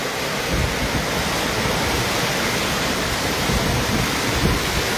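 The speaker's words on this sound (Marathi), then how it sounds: "या कडावरून कोसळणारा हा सुंदर असा अप्रतिम धबधबा आहे" A tall waterfall plunges down a high cliff, a dense, steady roar of crashing water filling the air without pause.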